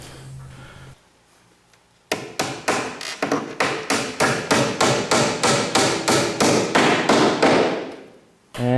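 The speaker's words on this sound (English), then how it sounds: "And go ahead and bang it down." A small finish nail, about 1.5 inches long, is hammered into a wooden kayak form: roughly twenty sharp, evenly paced strikes ring out loud and close after a brief quiet pause, continuing without any talk.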